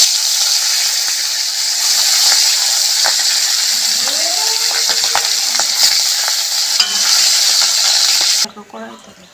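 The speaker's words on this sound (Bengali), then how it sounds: "আর মাছ দুটো ভেজে নেব।" Rui fish frying in hot oil, a loud, continuous sizzle broken by scattered clicks and knocks of a utensil, which cuts off abruptly near the end into quieter handling sounds.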